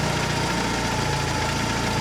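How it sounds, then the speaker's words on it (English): A 998cc Mini engine idling steadily at roughly 850 to 900 RPM, a close, even mechanical hum with a regular low pulse and no talking. "So I'll bring that to about 900 RPM"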